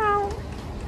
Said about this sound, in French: Là on est dans le métro et il y a un chat.